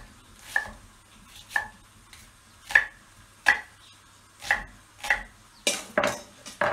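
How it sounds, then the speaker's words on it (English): A knife chops one onion roughly on a board for a soup, making about nine distinct, evenly spaced thuds that come closer together toward the end, close and clear with no talking. "roughly chop up one onion"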